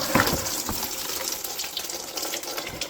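Transmission oil suddenly gushes out of a leaky Dodge Caravan transmission oil pan, a steady splashing pour of liquid running close up for the whole stretch, with no talk over it.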